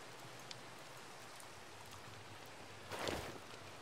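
Steady hiss of rain falls in the game Minecraft, a soft continuous wash with a brief louder swell near the end.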